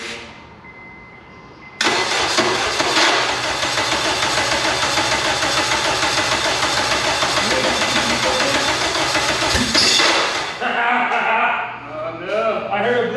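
A starter cranks the K24 engine in an AWD Integra, a loud sustained mechanical whir that runs steadily for about eight seconds after a quieter start, then drops off near the end.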